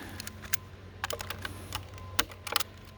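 A knife cuts open the tab on a Latex-ite Quick Patch asphalt bucket, a series of small, close plastic clicks and snaps scattered irregularly over a few seconds against a faint background hum.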